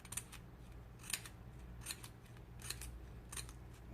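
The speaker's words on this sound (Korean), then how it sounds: "가늘게 가위집을 내어주시고요." Scissors snip thin slits into paper for a handmade wedding flower prop, about five or six crisp, evenly spaced cuts over quiet room tone.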